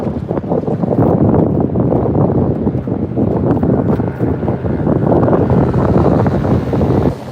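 Strong wind buffets the microphone on a fishing boat with bass boats passing, a constant, loud, rumbling roar, with a low wash that could be water and no clear voices.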